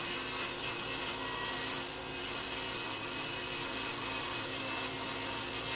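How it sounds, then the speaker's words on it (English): A new Laguna table saw cuts a straight edge on recycled wood boards for a live-edge bed frame, a faint, steady, continuous rasping drone throughout, with one brief spoken word. "it was off to the table saw to cut that fourth straight edge"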